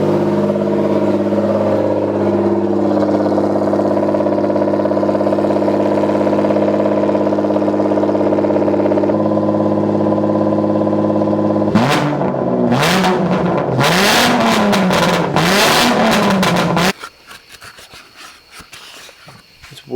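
A Toyota 2JZ-engined car with a new full exhaust idles loudly, a deep steady drone, then blips the throttle in sharp revs that rise and fall several times before cutting off to near quiet.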